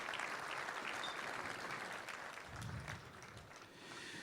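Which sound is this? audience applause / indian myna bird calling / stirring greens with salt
audience applause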